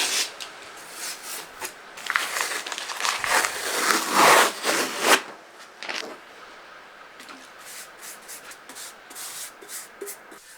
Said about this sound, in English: I started by using cleaning benzene and a scraper to remove surface deposits.